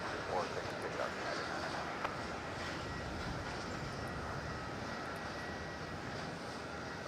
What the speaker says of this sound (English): a Dash 9 Dreamliner off to Los Angeles. United 99, runway 34, clear for takeoff.